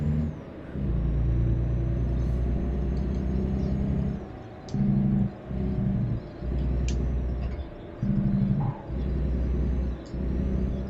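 Peterbilt 579 truck in a driving game, a deep engine-brake rumble cycling on and off in several loud bursts between quieter gaps, with a faint squeal mid-way.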